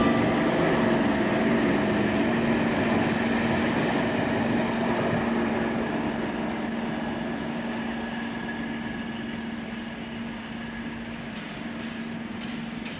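A heavy Deltic diesel locomotive engine drones steadily with a low pitched hum and rumbling, gradually fading slightly, with faint rattling near the end.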